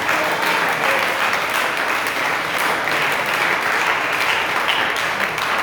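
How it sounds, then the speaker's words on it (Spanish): A church congregation bursts into sustained applause during a pastor's sermon, a dense, even wash of clapping from many hands filling several seconds with no clear talk over it. "Démosle un aplauso al Señor."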